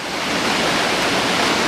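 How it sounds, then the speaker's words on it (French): A flowing winter stream, the Artax brook, heard up close as a loud, steady rush of broadband water noise with no pauses and no voices. "ça c'est le ruisseau d'Artax"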